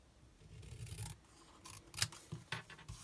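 Scissors or a trimmer cutting through card stock for a handmade Stampin' Up greeting card: short quiet snips and rasping slides of the blade along paper, close by, with no talking.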